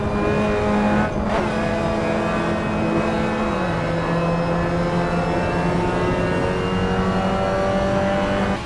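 Late-1990s British Touring Car Championship cars race in the Assetto Corsa video game, their engines a loud, constant droning roar that holds its pitch, then drops slightly as a gear changes partway through, with no voices.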